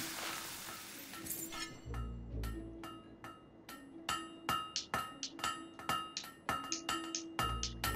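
Repeated metallic hammer strikes on a blade at a forge in the video game Fable III, ringing in an irregular rhythm over a low hum, with clinking hits close and fairly loud throughout.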